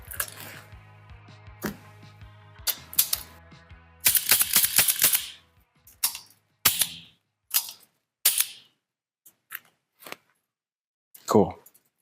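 Gun parts being reassembled by hand, giving a string of sharp clicks and snaps close by, some single and some in quick bursts, with short pauses between them and no talk.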